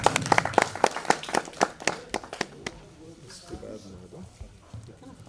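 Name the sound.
applause welcoming guests at an award ceremony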